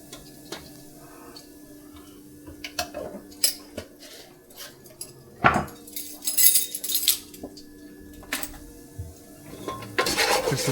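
A spoon stirs pinto beans with bouillon in a metal pot, giving scattered clinks and scrapes against the sides, sometimes in quick bursts and sometimes spaced apart, close and fairly loud, with no talking.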